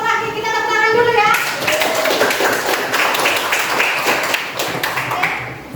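A classroom group claps for the final presenting group, steady broadband clapping running for several seconds at close range, beginning after a short stretch of voice.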